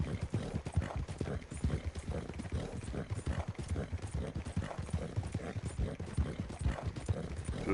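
Horse hooves galloping in the online western game Red Dead Redemption Online, a fast steady clip-clop rhythm of hoofbeats running throughout at moderate, fairly faint level with no talk over it.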